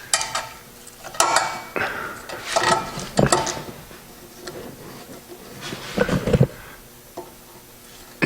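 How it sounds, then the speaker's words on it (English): A tubing cutter with rusty blades bites into an exhaust tube for a V-band clamp fitting, giving a run of scraping, grinding bursts with metallic clanks, close and fairly loud, with no voices. "We're going to use a tubing cutter that's got some nice rusty blades in it"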